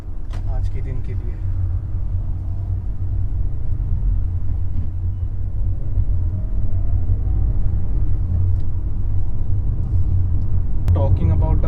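Steady low engine rumble from a Ford Aspire with a 1.2 litre engine while driving, a continuous loud drone filling the cabin with faint road noise and no talk.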